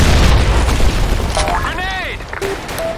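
A grenade explodes in the shooter game Blackshot with a loud, deep boom that rumbles and fades, followed by voices and game sounds.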